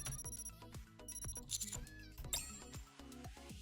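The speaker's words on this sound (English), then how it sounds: "the sound of a bell ringing comes from the countertop up front" In the video game Nikke, a bell or phone on a countertop rings in quick metallic trills over soft chiming background music, the ringing bursts repeating several times at moderate volume.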